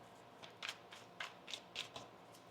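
Soft, quiet tarot card shuffling: a series of about six light riffles and taps spaced evenly, close by against a faint steady background hiss.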